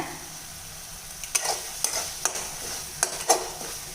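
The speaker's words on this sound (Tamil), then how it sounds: "இவ்வளோ நேரம் நான் ஹை ஃப்ளேமில் வச்சே தான் வதக்கிக்கிட்டேன்" Tomatoes for chutney sauté in a pan on high flame with a soft background sizzle. About six distinct scraping stir strokes fall at irregular intervals over roughly two seconds, fairly quiet and with no talking.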